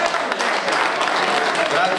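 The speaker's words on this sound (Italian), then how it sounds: "Applauso!" Applause from an audience at a 25th-anniversary gathering of a pensioners' centre in Rivara, a dense, steady wash of many hands clapping that fills the whole moment without a pause.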